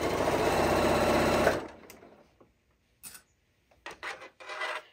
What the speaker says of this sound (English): When I get to this stitch line, I can rotate my fabric by raising the presser foot and rotating it.